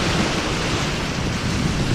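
Stormy sea at Paldiski, Estonia, a loud, continuous roar of crashing waves and surf mixed with heavy wind buffeting the microphone, no voices.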